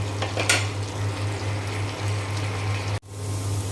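Cauliflower fries in a pan with a strong, steady sizzle and occasional stirring clinks over a low hum, broken by a sudden brief dropout near the end.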